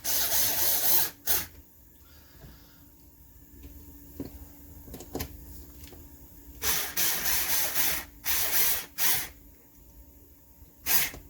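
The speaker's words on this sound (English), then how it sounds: "So I'm just using the edge of the sheet metal screw to hold these in." Power screwdriver driving sheet metal screws to hold parts of a DIY 5V soldering fume extractor, several loud short whirring bursts separated by quieter handling clicks and taps at close range.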